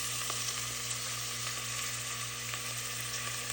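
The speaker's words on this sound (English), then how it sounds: "I'm gonna saute this" Ground chickpea and spinach fritter mixture sautéing in a pan, a continuous, even sizzle and crackle at low level with no voices.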